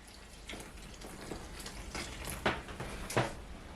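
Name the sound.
pouring water onto blended egusi to soak it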